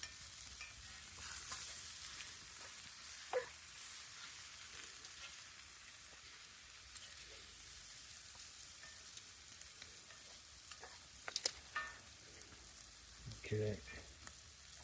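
Chicken with barbecue sauce sizzles in a pan at a boondocking campsite, a steady quiet frying hiss broken by a few short stirring clatters, with no talk heard.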